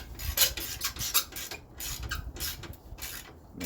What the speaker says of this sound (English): I got a 1/4 inch ratchet and now we're going to tighten up the bolts